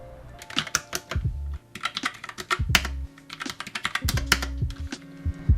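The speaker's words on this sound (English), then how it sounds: "Now let's change to the red switches." Keys clack on a TESORO Gram Spectrum RGB mechanical gaming keyboard fitted with red switches, typed in quick rhythmic runs broken by brief pauses, with no voices.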